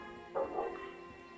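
A dog barks once or twice in a short burst from somewhere in the background, faint under a steady low hum of game ambience.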